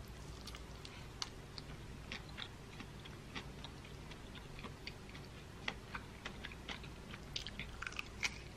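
Steady crisp crunching and biting into crispy fried chicken, many sharp small cracks in quick irregular succession, close up, with no talking.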